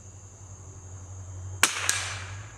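.22 rimfire rifle fired at a small target outdoors, two sharp cracks about a quarter second apart against a steady background hum, near and loud.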